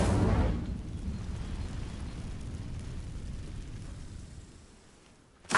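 A fiery blast from the Incendio spell in Hogwarts Legacy bursts out loudly at the start, then settles into a long rumbling, crackling roar that slowly fades before a sharp burst right at the end.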